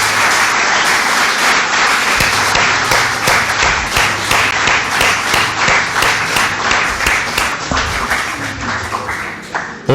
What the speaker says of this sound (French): il mérite tous des applaudissements